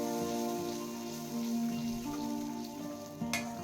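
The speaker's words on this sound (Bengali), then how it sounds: "ভাজতে থাকবো তেলের মধ্যে" Spice paste for a black chickpea kofta curry fries in hot oil, giving a soft, continuous sizzle and crackle close by, with gentle music playing underneath.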